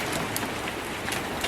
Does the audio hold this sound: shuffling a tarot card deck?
no